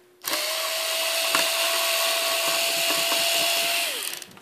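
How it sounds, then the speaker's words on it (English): A power screwdriver or drill runs steadily for about four seconds while removing screws from an electric motor during a 220V to 110V conversion, with a sustained whine that winds down at the end and no talk. "hold the motor one hand and you unscrew it in the other"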